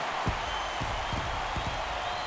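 A stadium crowd in MLB The Show 24 roars after a home run, a steady wash of cheering and scattered claps held at an even moderate level, with no voices standing out.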